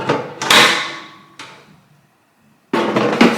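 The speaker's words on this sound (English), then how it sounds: "so you can remove the basket from the drawer." Plastic basket of an Aldi 5.5-litre air fryer pulled free from its drawer, a loud close clatter and slide followed by a second knock, a short silence, then more handling noise.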